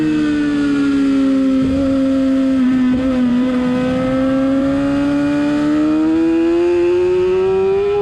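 A scooter engine accelerates hard around the Talladega Gran Prix Raceway, its loud, close whine climbing steadily in pitch after a brief dip and stutter early on, running continuously with no talk.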